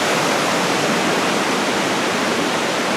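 A loud waterfall on McCoy's Creek Trail roars in a steady, dense, unbroken rush of falling water, close and filling the whole scene with no voices.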